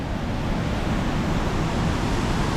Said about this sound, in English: Just gotta be careful where you stand because this is some serious water action here.